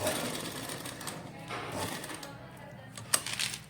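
A sewing machine stitches beaded lace onto the edge of a dupatta in short, quiet bursts of rapid needle chatter, with soft handling noises and a murmur of talk in between.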